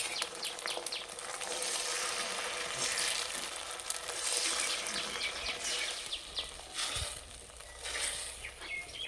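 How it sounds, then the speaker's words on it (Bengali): Steady, crackling sizzle of eggs frying in hot oil, with scattered pops and spits running throughout at a fairly close distance. "এবার ডিমের অমলেটগুলো ভেজে নেব"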